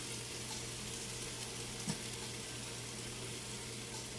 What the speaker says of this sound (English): now that our zucchini is getting nice and cooked, tender crisp, we're going to add some of this garlic